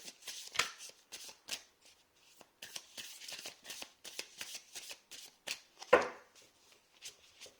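A deck of tarot cards is shuffled by hand, close and crisp, with a long run of rapid riffling slaps and flicks, brief pauses between bursts, and one louder thump near the end; no speech.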